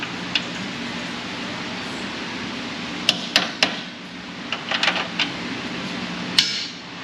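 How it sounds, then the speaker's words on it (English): Sharp metallic hammer strikes on a pry hammer while a bolt is fitted on a 2000 Nissan Frontier 3.3 4x4, several close taps in irregular bursts over a steady low hum. "Pry hammer."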